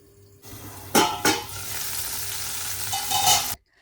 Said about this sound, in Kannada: ಹಳದಿ ಪೌಡರ್ ಕೂಡ ಸ್ವಲ್ಪ ಹಾಕಿ ಚೆನ್ನಾಗಿ ಇದನ್ನು ಫ್ರೈ ಮಾಡ್ಕೊಳ್ತೀನಿ